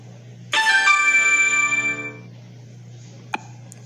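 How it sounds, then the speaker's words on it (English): A phone ringtone chimes in a bright melodic burst for about a second and a half, then cuts off as the call is declined, followed by a single short beep, over a low steady hum. "Ah, be quiet, phone."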